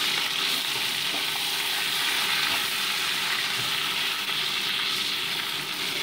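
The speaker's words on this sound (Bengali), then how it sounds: "এবার আমি কড়াইতে সরষের তেল গরম বসিয়ে মাছগুলোকে এক এক করে ভেজে নিচ্ছি।" Tilapia frying one piece at a time in hot mustard oil in a kadai, a close, continuous crackling sizzle with scattered pops throughout and no talking.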